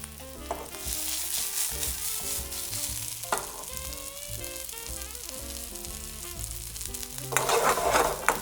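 Peppers and onions frying in a pan with a pinch of salt for a restaurant-style king prawn biryani, a steady close sizzle with stirring clatters and a louder burst of frying near the end.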